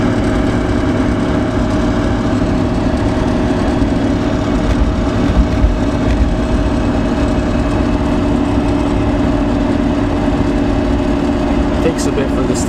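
Toyota 2F engine idling steadily at about 2,000 RPM while warming up, a constant low rumble held without change throughout.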